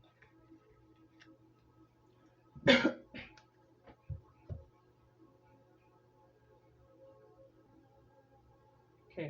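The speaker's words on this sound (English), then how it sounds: "I had a quick pause, kind of clear my throat for a minute" A single sharp cough stands out in a quiet room, followed by a few smaller throat-clearing noises and soft clicks, with a low steady hum underneath.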